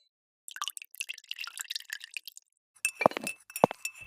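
Glass cups clinking together and then breaking, a run of light close clinks and rattles followed after a brief pause by sharper shattering hits and scattered bright tinkling debris, with no talking.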